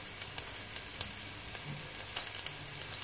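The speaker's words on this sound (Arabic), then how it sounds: "يلا نحط البصل. احنا بدنا نقليه يعني هيك، بدنا نكرمله" Onions frying in a pan, caramelizing over steady heat, give a continuous close sizzle with scattered small pops and crackles, heard alone without talk.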